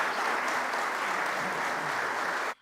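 Members of parliament applaud to greet the visiting NATO secretary general: steady, dense clapping from a large group that fills the room evenly and then stops abruptly at the end, with no voices over it.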